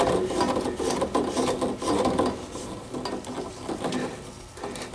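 A hose fitting threaded on by hand during a twin-turbo 5.9 Magnum engine build, giving a steady rasping, rubbing metal-on-rubber scrape with short repeated strokes, close and alone.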